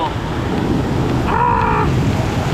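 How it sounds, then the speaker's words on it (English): An indoor waterpark waterfall pours down over a lazy river in the Poconos, making a loud, continuous rushing roar heard close by, with a brief tonal sound rising above it partway through. "Another waterfall."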